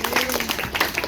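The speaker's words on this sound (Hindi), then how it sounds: "तालियाँ बजाइए।" Brief patter of audience applause for children at a Christmas event held by a cerebral palsy association in Santacruz, Mumbai, a dense crowd of hands clapping steadily and fairly loud.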